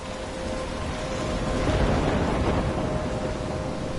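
Steady heavy rain with a low rumbling storm bed swelling slightly midway, a continuous wet wash in the Life is Strange video game; no voices.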